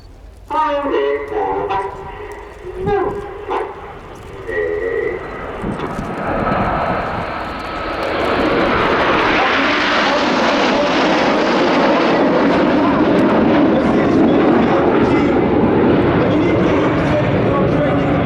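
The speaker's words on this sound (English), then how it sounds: "Coming in from the right, the smoke comes on for the reversal in Spitfire." A Spitfire flies a smoke-trailing display at the Royal International Air Tattoo, its engine noise swelling from a distance into a loud, sustained roar after an opening stretch of commentary.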